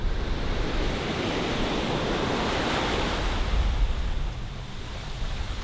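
Ocean surf rolls steadily onto a long beach in Cam Ranh, Vietnam, a continuous broadband wash of breaking waves with some wind rumble, loud and close throughout.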